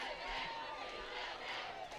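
Crowd cheering for Team USA at a women's water polo game in La Jolla, a steady, dense wash of voices with shouts rising at moments, fairly distant and continuous.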